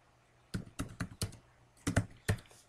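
Keystrokes on a computer keyboard entering a command, about seven distinct taps in uneven bursts, close and fairly quiet with no talking.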